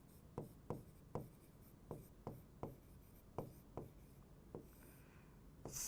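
Chalk or marker writing on a board during a biology lesson, with about a dozen sharp, evenly spaced taps and strokes over a quiet room hiss.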